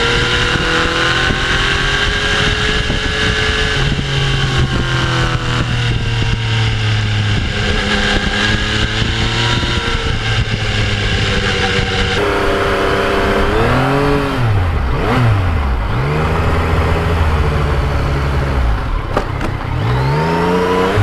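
A Yamaha MT-09 naked motorcycle cruises on the highway, its engine note droning loud and steady throughout with a constant rush of wind, pitch rising and falling through gear changes.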